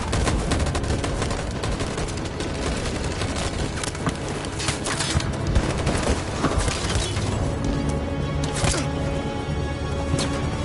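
A loud, dense volley of gunfire rattles on without a break, overlapping shots and bursts crackling continuously as if many weapons fire together.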